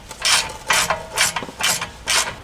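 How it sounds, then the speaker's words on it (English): A car jack ratchets while lifting a Nissan 180SX, giving five evenly spaced bursts of clicking about half a second apart, close and clear with no talking. "Alright, we're gonna just have to jack it up."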